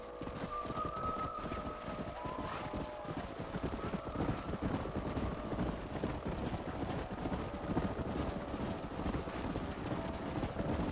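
Horse hooves clip-clop steadily through the Red Dead Redemption game world, blended with ambient birdsong and a constant outdoor background that runs the whole time.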